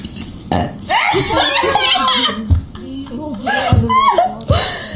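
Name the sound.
fake burp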